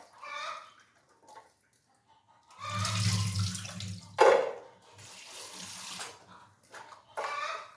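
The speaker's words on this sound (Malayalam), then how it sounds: "ഇനി നമുക്ക് ഇതൊക്കെ ഒന്ന് കഴുകിയിട്ട് ഇതിലേക്ക് ഇട്ട് കൊടുക്കണം കേട്ടോ" Water runs from a tap as items are rinsed in a kitchen, coming in bursts of splashing flow with short pauses between them, and a faint fowl cluck is heard in the background.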